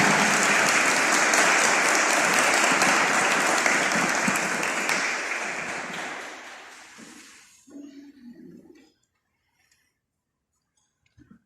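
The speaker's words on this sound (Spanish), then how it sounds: "nosotros mismos le damos un aplauso a nuestros invitados" Audience applause for invited guests at a pro-life event, dense and sustained for about six seconds, then fading out with a few scattered claps before silence.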